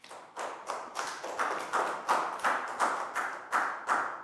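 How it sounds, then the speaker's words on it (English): A Year 4 maths class claps in unison for a pupil, about eleven sharp, evenly spaced claps in a steady rhythm, close and moderately loud, with no talking. "Big round of applause for Pat"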